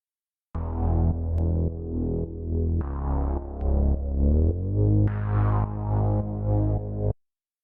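A gritty, distorted synth bass plays a pulsing line of sustained notes, loud and up front with no voices, stopping abruptly at the end.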